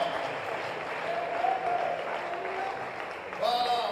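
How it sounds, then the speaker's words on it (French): A church congregation applauds and cheers for the Lord, a sustained wash of clapping throughout with voices mixed in and a louder swell near the end. "On acclame un peu le Seigneur Jésus"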